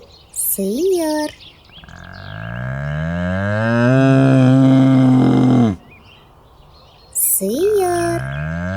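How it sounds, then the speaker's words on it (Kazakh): A cow gives one long, loud, drawn-out moo that swells and holds for several seconds, with a voice speaking briefly just before and again after it. "Бұл сиыр."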